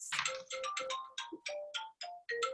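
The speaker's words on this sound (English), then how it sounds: "it's my phone. Sorry, I forgot to turn that off." A mobile phone ringtone plays a quick melodic sequence of bright electronic notes in clear bursts, fairly close and alone, during an online workshop session.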